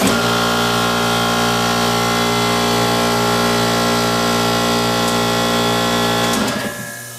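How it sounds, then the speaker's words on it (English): An air compressor supplying a spray painting setup runs loud and steady with a dense mechanical drone, then cuts off and winds down near the end. "We'll shut the compressor off for now."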